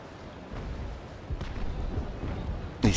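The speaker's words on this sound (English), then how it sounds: "Hit him with one more chain shot here" Ship cannons firing chain shot in a naval sailing battle in Naval Action, heard as a few low booming blasts over rumbling ambience with a sharp loud crack near the end.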